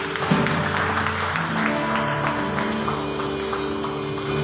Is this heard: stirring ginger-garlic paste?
no